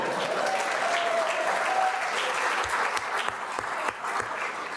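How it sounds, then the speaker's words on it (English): Audience at a county excellence awards ceremony applauding department directors, a steady wash of clapping at moderate distance that thins toward the end, with a few distinct claps standing out. "If you want to give them a round of applause,"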